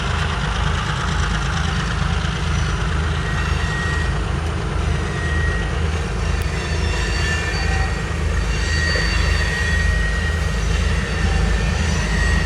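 A freight train hauled by GP15 locomotives rolls past in a steady, loud rumble, with faint metallic wheel squeals drifting above the continuous roar.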